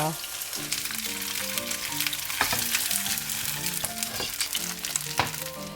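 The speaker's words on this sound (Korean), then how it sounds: "후라이팬에 기름을 이렇게 두르고 두부를 노릇하게 구워주세요." Starch-coated tofu frying in an oiled pan, giving a steady, close sizzle with crackling spatters throughout and no talking.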